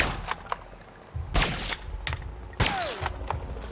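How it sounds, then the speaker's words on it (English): Sniper rifle fire in the Alpha Protocol video game: a few sharp, loud cracks spaced a second or so apart, each with a short ringing tail, over quiet game ambience. "Now we can really show off how terrible I am with the sniper rifle"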